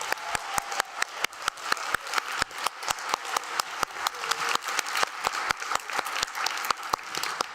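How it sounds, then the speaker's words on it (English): Audience applause at the OEB 2021 Innovative Learning Arena battle event, a dense steady burst of many hands with sharp, evenly spaced claps cutting through, sustained and fairly close for the whole stretch. "Now, let's see the applause meter once again."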